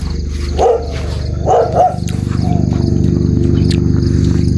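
Dogs in a village bark several times in short bursts near the start, over a constant low mechanical hum that carries on after the barking stops.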